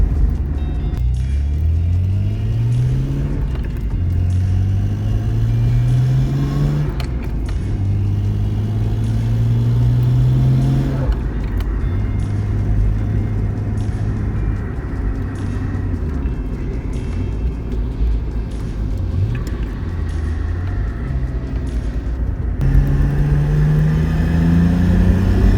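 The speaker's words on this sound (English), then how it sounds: "Do have an exhaust leak at the moment too, so it sounds a bit like a tractor, unfortunately." A Nissan Skyline GTR with an exhaust leak and a short shifter drives, its engine rumbling in a coarse, tractor-like way, revving up and dropping back repeatedly through shifts, heard from inside the car.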